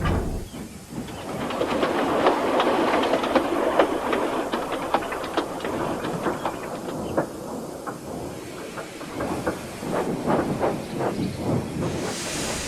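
Steam locomotive shunting passenger coaches at a station platform, a steady hissing chuff with clanking wagon noise and rail clicks running throughout, fairly close and moderately loud, with no talk.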